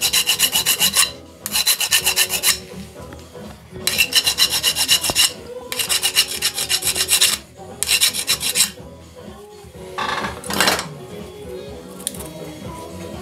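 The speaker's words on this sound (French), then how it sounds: "On va limer tout ce qui dépasse." A metal file rasps off a protruding rivet in repeated rhythmic strokes, each a bright scraping burst about a second long with short pauses between, close and loud.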